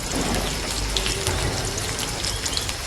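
Garlic frying in a pan for a fish curry made with raw mango, giving a steady, close sizzle and crackle like light rain with no pauses, alone with no voices.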